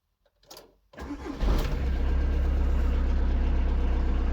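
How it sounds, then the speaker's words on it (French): Cold start of a 2001 VW T4 van with a 1.9 TD diesel engine: a brief cranking whir, then the engine catches and settles into a loud, steady, clattering idle, heard close with no talking. "On va faire un petit démarrage à froid."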